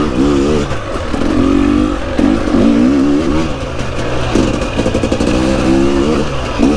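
A brand new 2023 KTM 250 XCW two-stroke dirt bike ridden on a hard forest trail in Horseshoe Valley, Simcoe County Forest, its close, loud engine revving up and down in repeated bursts with clattering over rough ground.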